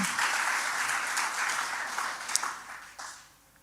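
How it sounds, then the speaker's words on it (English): Applause for the Dean at a Faculty of Law book launch, a steady crowd clapping that holds for a few seconds, then thins out with a few last claps and dies away. "Another round of applause for the Dean."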